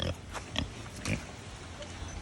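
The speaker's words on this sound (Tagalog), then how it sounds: "Ayun oh, mga baboy na ulaga." Loose pigs grunt and squeal in short bursts amid a busy, noisy farmyard background, with a few sharp snorts standing out.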